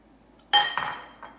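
Metal whisk clinking against a large bowl while flour, white cheddar, baking powder, salt and baking soda are mixed for cheddar-black pepper waffles: a sharp clatter, a second scrape, then a faint final tap, close and alone.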